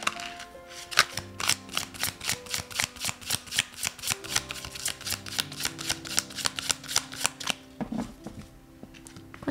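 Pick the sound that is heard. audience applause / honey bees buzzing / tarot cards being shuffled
tarot cards being shuffled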